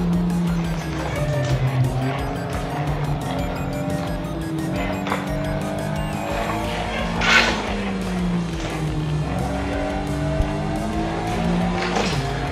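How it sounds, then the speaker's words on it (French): A race car in the Assetto Corsa simulator brakes hard on a downhill stretch, its engine note dropping through downshifts while tires squeal briefly, steady and close throughout. "Un petit freinage appuyé en descente."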